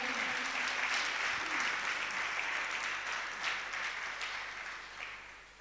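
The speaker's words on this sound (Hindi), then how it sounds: "एक बार यहाँ की कमेटी के लिए जोरदार तालियां बजाइए" An audience at a religious discourse applauds loudly and steadily, a dense wash of clapping that slowly fades toward the end, with no talking over it.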